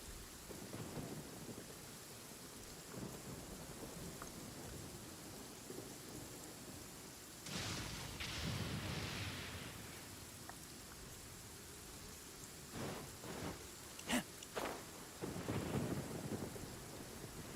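A thunderstorm in Genshin Impact, with steady rain hissing throughout and several rolling thunder rumbles and sharp cracks breaking through at intervals, fairly quiet overall.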